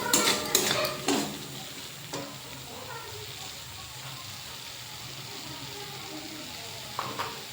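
Spiced paste and slit green chillies hit hot oil in a pan for Badami aloo dum, giving a sharp sizzle with a few scraping stirs at the start, then a steady low frying hiss with another clink near the end.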